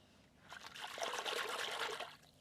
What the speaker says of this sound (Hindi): अभी बाकी का हम कंप्लीट पानी से अभी भर देते हैं इसको।